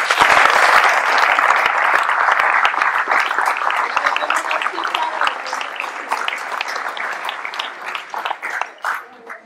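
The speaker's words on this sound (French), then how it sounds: "Donc je voudrais que vous les applaudissiez très fort." Sustained applause from an audience at a town ceremony honouring local sports volunteers in Ploërmel, dense clapping that starts loud and gradually thins toward the end, with a few scattered claps standing out.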